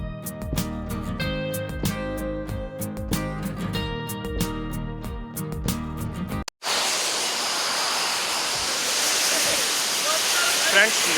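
Roaring waterfall in South Goa, its milky water pouring with a dense, loud, continuous rush that arrives abruptly after a stretch of music and holds steady to the end.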